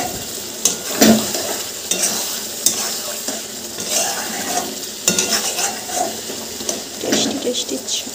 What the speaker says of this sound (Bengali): টেস্টি ছাঁট এখন কষানো চলছে, তো আর একটু কষাবো, তারপরে জল দেবো।